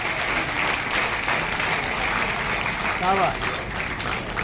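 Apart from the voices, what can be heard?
audience applause for Richa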